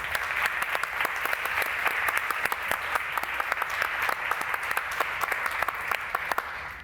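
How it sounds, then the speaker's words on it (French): Steady audience applause in a hall during a morning information-rights event, dense even clapping from many hands, moderately loud and continuing alone without speech for several seconds. "On peut l'applaudir."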